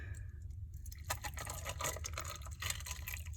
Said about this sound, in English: I'm going to fill them about 3/4 of the way full with water